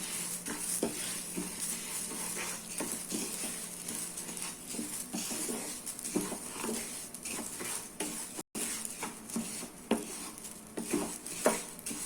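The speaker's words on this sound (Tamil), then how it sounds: "பாசிப்பருப்பு போட்டு நல்லா செவக்க வறுக்கணும்." Moong dal dry-roasting in a pan, heard as a steady light sizzle and rustle of grains, broken by repeated scrapes and taps of a spoon stirring against the metal pan, close and fairly quiet.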